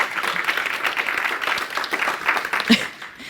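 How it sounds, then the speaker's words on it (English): A conference audience gives a standing ovation as a speaker is brought to the stage, loud dense clapping throughout with some voices and cheering mixed in before it tapers off at the end. "A big round of applause."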